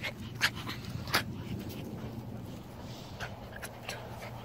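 Old Time Scotch Collie puppies whimper and pant close by, with a few sharp yips standing out over a steady, soft panting.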